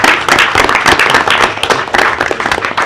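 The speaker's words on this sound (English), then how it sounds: "I think they're deserving of a round of applause as well" An audience gives a round of applause for a Pride Award–winning team from Shreveport-Bossier, with dense, steady clapping throughout and no talking.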